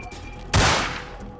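A loud burst of gunfire from the vampire game VTM: Bloodlines erupts suddenly halfway through, a sharp blast that rings and fades over low background game sound.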